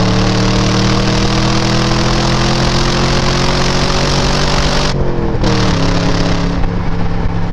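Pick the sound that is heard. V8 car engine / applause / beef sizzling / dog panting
V8 car engine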